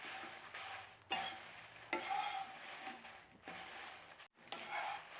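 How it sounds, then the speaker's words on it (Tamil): Red chillies are dry-roasted in a pan on low flame, heard as soft, intermittent scraping and rustling strokes of stirring, fairly quiet and close, with brief pauses between bursts. "லோ ஃப்ளேமில் வச்சு நல்லா வறுத்திங்கன்னா நல்லா மொறு மொறுன்னு வர அளவுக்கு வறுத்துக்கோங்க"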